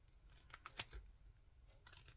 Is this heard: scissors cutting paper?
yes